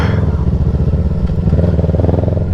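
A motorcycle with a newly repaired clutch, ridden at night, roars loud and close, its engine note holding steady and strong as it accelerates hard enough to lift the front wheel.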